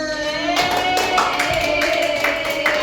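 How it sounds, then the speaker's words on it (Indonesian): Schoolchildren in a classroom clap together in a short burst of rhythmic, fairly loud applause, with brief pauses between the rounds of claps. "Beri tepuk tangan."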